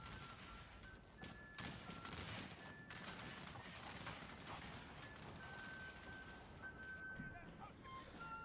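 Massed rifle volleys crackle continuously in a Total War Shogun 2 battle between Prussian, Guatemalan and Bavarian armies, a dense, steady roll of gunfire running throughout, with a voice faintly present beneath the din.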